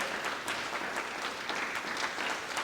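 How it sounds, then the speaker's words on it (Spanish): A congregation at a Spanish-language church service claps in sustained, dense applause, steady and fairly loud throughout with no clear voices on top. "Démosle palmas al Señor."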